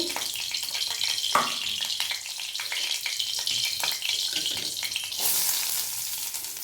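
Chopped onion frying in mustard oil in a wok gives a steady, close crackling sizzle, punctuated by a few sharp stirring clicks and a brighter hiss that rises near the end; no one speaks.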